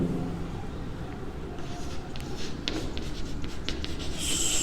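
Pen on paper during a class 9 maths lesson, a steady scratchy rubbing of handwriting with short strokes and taps over constant room noise, close and moderately loud.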